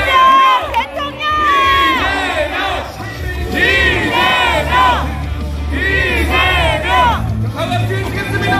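A large political rally crowd chants candidate Lee Jae-myung's name in loud, rhythmic unison, several rounds of the chant repeating back to back with short pauses between.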